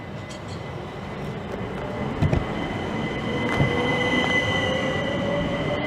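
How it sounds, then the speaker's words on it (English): Class 375 electric multiple unit 375828 pulls out of Gillingham station, with a steady rumble of wheels on rail, faint squeal and rising motor tone, heard up close and continuous. "It's 375828 on the front, and we'll get the rear as it leaves. And this should now be departing."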